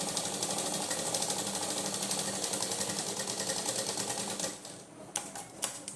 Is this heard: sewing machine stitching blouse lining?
yes